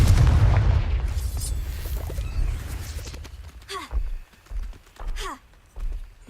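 A Confringo blasting spell in Hogwarts Legacy lets off a deep booming explosion that fades out over a few seconds, followed by several quieter thuds and a short spoken word.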